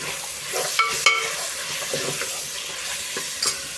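Mutton sautéing with onion and tomato in a pan gives a steady close sizzle, broken by several sharp scrapes and clinks of a spoon stirring against the metal.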